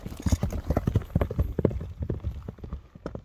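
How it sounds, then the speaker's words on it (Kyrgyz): A two-year-old horse gallops past, hooves drumming in a fast, uneven clip-clop at moderate distance, with rustling noise around it. "Анда чапсак болобу бул атты?"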